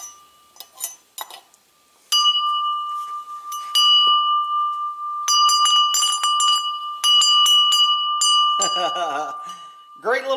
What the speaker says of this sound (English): Great little bell.